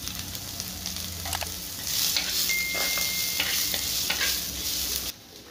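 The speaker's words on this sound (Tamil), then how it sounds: "ஓரளவுக்கு நல்லா வதக்கி எடுத்துக்கோங்க காரத்துக்கு வரமிளகாய் போட்டுக்கோங்க" Agathi flowers stir-fried with dried red chillies in a pan, a steady close sizzle with scraping stir strokes that grows louder midway, then drops off abruptly near the end.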